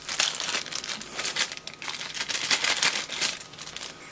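A plastic bag crinkles and rustles steadily as it is pulled open while unpacking a mail parcel, with dense, continuous crackling close up and no speech.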